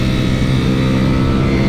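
A 2022 Ducati Panigale V4 S motorcycle engine pulling hard under acceleration, a loud, steady close-up roar with a strong low drone and no voices over it.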